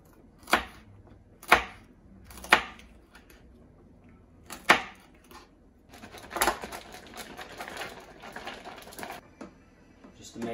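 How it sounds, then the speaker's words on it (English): Knife chopping peppers on a cutting board, a few sharp separate knocks at first, then a quicker run of lighter cuts, close and fairly quiet. "So I'm gonna just quickly cut up the peppers"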